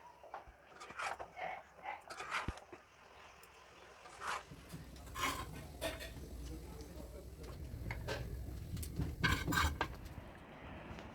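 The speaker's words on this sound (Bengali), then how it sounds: "এই সময় আমি আলতো হাতে খুব ভালো করে দুটোকে মিক্সড করে দেবো।" Cooked prawns being gently mixed into rice in a pot, with soft scraping and intermittent clinks of a spoon against the pot over a low background hum.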